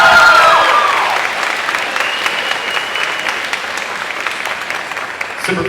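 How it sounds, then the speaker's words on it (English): An audience at a Fayetteville, North Carolina community salute ceremony applauds, loud at first and then settling into steady clapping that thins toward the end. "Let's give a round of applause again."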